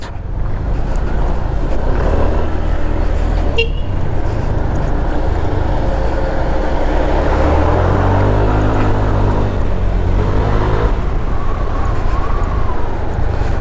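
A KYMCO 300cc scooter accelerates hard on a test drive, its engine drone rising steadily with loud wind rush over the whole ride, continuous and close.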